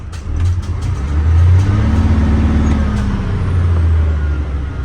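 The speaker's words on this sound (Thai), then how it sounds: "เสียงเทอร์โบนะครับ เนี่ยเทอร์โบทำงานมัน" A big Isuzu Giga 12-wheel truck's 380-horsepower 6UZ diesel engine revs up and holds, a rising whistling whine from the turbo riding over the deep rumble before easing slightly.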